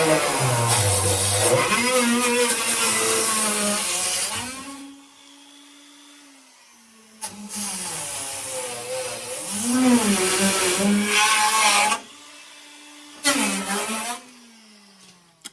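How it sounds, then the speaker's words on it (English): Power wire brushes scrub rust off a VW Beetle in bursts of high, gritty whirring. Each burst winds down to a quieter idle hum between passes, and the sound stays close and loud. "Got some new brushes so I can get in some tighter areas."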